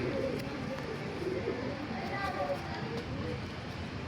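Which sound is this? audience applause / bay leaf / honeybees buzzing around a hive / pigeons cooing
pigeons cooing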